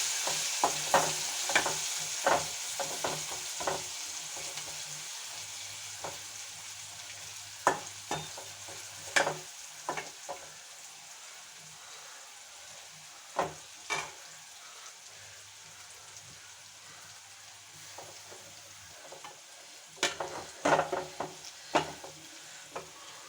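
Curry leaves sizzle in hot oil while cauliflower fry cooks, a steady crackling hiss broken by sharp pops and the clatter of stirring at irregular intervals, with no talk.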